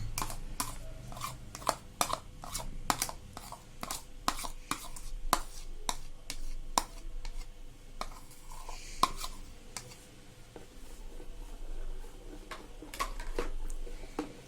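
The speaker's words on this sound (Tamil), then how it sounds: "இப்போ நான் ஒயிட் பீட் பண்ணி வச்சுருக்கேன், அதுலேயே நான் எல்லோவை மிக்ஸ் பண்ணிக்கிறேன்" Egg yolk is mixed into beaten egg whites in a bowl for a fluffy cheese omelette, making a rapid series of light, crisp taps and clicks as the utensil strikes the bowl, close and fairly quiet with no talking.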